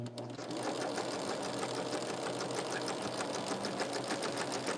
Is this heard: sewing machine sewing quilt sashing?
yes